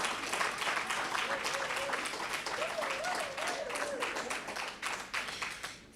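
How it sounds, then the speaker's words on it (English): Audience applause at a university striping and award ceremony, sustained dense clapping from a crowd for several seconds with a voice faintly audible underneath, tapering slightly at the end. "Can we hear it with another round of applause?"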